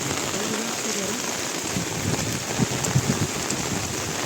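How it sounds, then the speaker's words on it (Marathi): Heavy monsoon rain pours steadily over flooded rice paddies, a dense, even hiss of downpour with a few louder drops popping close by throughout. "पावसात तेवढा चालू आहे जोराचा."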